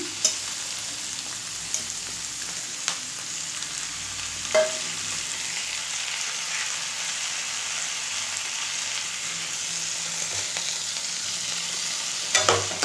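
Tomato goes into a frying Telugu leaf and gram flour curry, which sizzles steadily while occasional scraping stirs and light clinks of a spoon against the pan break through.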